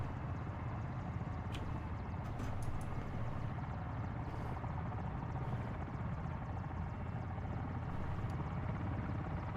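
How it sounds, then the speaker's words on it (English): A helicopter in a military co-op video game gives off a steady, low rotor drone throughout, with faint clicks on top and no talk. "Have they noticed the helicopter?"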